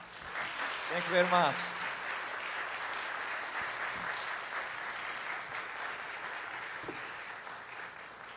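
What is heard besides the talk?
congregation applause in church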